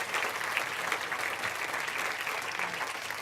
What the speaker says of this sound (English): Can we give Glynn a round of applause?